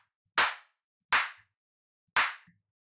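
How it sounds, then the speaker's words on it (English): A clap drum sample from a free sample pack, struck three times at an even pace, each hit a sharp, bright burst with a short fading tail, isolated and dry. "so I'll just grab a clap that I think will sound nice."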